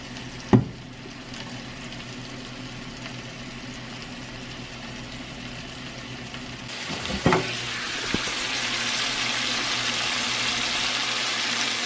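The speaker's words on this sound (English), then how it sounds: "So I think I'm going to cook this steak" A steak frying in a pan gives a steady hiss and sizzle throughout, with a sharp knock near the start and a burst of clatter about two-thirds in, after which the sizzle grows brighter and louder.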